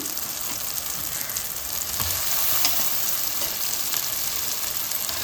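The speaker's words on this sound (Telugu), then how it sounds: "ఈ మసాలా అంతా బాగా ఫ్రై అయిందండి. ఇప్పుడు చికెన్ వేసేసుకున్నాం." Chicken pieces sizzle and fry in a coconut and green chili masala, a dense, steady crackling hiss with occasional stirring scrapes, close and continuous without any talk.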